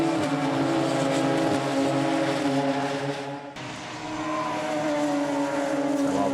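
Radical PR6 race cars roar around the Snetterton 300 circuit in a close pack, loud engine drone with shifting pitches and a brief dip as they pass, constant and near throughout.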